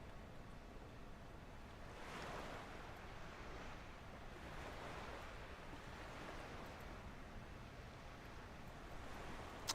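Steady surf washing in at the north end of a bay, broad rolling swells of water noise with wind rumble, no voices.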